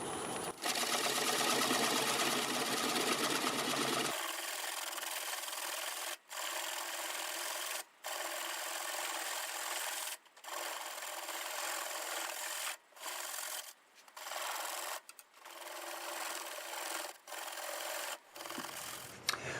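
A tenon is cut off a turned catalpa wood bowl, giving a loud continuous rasping rub at first, then repeated bursts of scraping broken by short silent pauses, close and alone.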